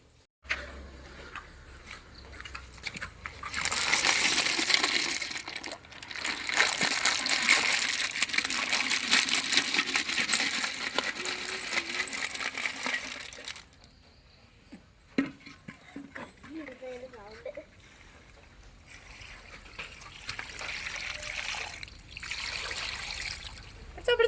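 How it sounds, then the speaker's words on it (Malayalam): Clam meat is washed over and over in water, giving loud, sustained sloshing and trickling with clinking bits. Quieter splashes follow as a person talks over it. "ഇതിനി പറക്കിയിട്ട് പിന്നെ 5-6 പ്രാവശ്യം കഴുകണം"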